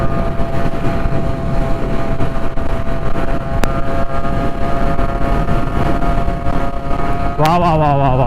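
Yamaha RX motorcycle exhaust on a group ride drones steadily on the open road along with rushing wind, while a voice speaks over it, and the pitch rises near the end.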